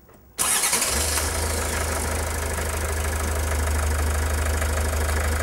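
A common rail diesel vehicle engine cranks briefly and catches, settling right away into a loud, steady, low rumbling idle with a rough knocking texture, close by and without voices.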